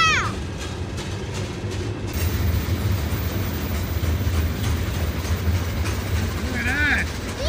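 A train passes a railroad crossing with a continuous rumbling roar and rhythmic wheel clatter, close and loud, while people talk excitedly nearby.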